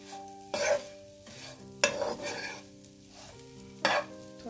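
Moong dal kachori filling with crushed kasuri methi being roasted and stirred in a pan: three sharp scraping bursts of a spoon against the pan, spaced a second or two apart, over a soft steady tonal background.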